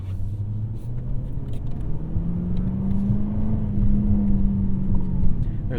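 A 2023 Jaguar F-Type R Coupe engine rumbles close by, its deep exhaust drone rising gradually in pitch as revs climb, with a throaty low burble under light cabin noise.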